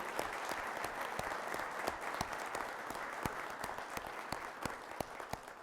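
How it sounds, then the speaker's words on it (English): Sustained audience applause at an annual meeting, honoring a state senator, with dense steady clapping from a crowd and a few sharper individual claps standing out, moderately distant and continuing throughout. "So can we give him a round of applause for that?"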